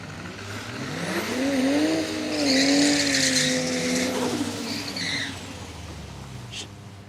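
A turbocharged six-cylinder Skyline drag car at Palmyra Raceway revs hard and climbs in pitch, its engine note rising and holding loud for several seconds before fading away.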